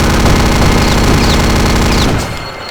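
The Venom, a rapid-fire machine gun in Return to Castle Wolfenstein, fires a sustained, very loud stream of shots for about two seconds and then cuts off, leaving a fading tail.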